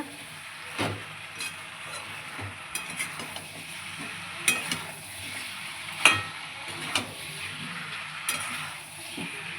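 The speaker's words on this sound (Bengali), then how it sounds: "এটা এখন ভালো করে আমি নাড়াবো নাড়িয়ে নাড়িয়ে কষিয়ে নেবো" A curry stirred and sautéed in a pan, with a low background sizzle and sharp intermittent scrapes and clacks of the spoon against the pan, close and fairly quiet.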